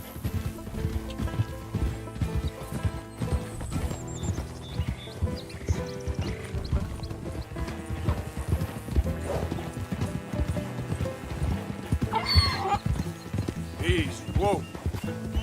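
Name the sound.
donkey/zebra hooves and whinny in video game Red Dead Redemption 2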